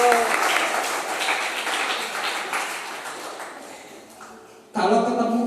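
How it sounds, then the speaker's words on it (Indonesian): An audience applauds for Songhun at an Indonesian church talk, a steady spread of clapping that fades gradually before a voice cuts in at the end. "Oke, tepuk tangan untuk Songhun."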